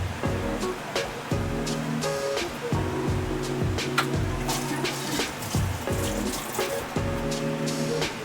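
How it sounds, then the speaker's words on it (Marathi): Water pours into a solkadi mixture of coriander, garlic, ginger and green chillies, a continuous splashing rush with music playing underneath. "ह्याच्यामध्ये पाणी टाकायचं आहे"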